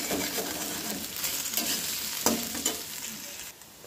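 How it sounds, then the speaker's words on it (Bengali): Potatoes frying in a pan give a loud, continuous close sizzle with occasional stirring scrapes, easing off slightly near the end. "আর এদিকে আমার আলুটা একদম লাল হয়ে ভাজা হয়নি, একটু লাল হোক"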